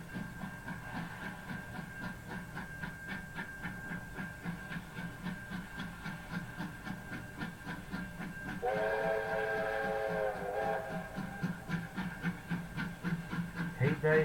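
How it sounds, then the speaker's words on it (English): A big black steam locomotive rolls along with a steady chuffing, wheel-and-rail rhythm, then its whistle sounds in one sustained blast lasting a couple of seconds before the rhythmic running noise carries on alone. "Oh yes, let that whistle go, baby."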